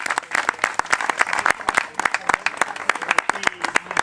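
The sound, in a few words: audience applause after a poetry reading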